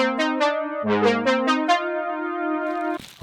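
Beat melody one-shot run through RC20 wobble and distortion with vintage chorus: a string of plucky, warbling synth notes settles into a held, slightly detuned tone, ending with a short noisy burst.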